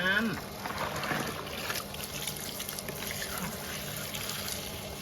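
Caladium plant cuttings are rinsed in a plastic noodle basket under strong running tap water to wash off the sap. Steady splashing and trickling water runs throughout, close by, with a faint voice in the background.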